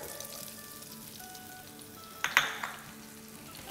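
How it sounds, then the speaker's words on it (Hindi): Chopped onions sautéing in butter and oil in a pan, with a faint soft sizzle and a brief louder burst of crackling and stirring partway through. "साथ ही इसमें हम डाल देंगे 4 टेबलस्पून प्याज ऑमलेट कट"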